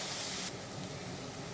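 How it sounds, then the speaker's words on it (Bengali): Onion and green chili frying in oil in a wok for cabbage pitli, giving a steady broadband sizzle and hiss that stays loud and continuous, a little brighter at first and then slightly softer. "পেঁয়াজ একটু ভাজা ভাজা করে নিব।"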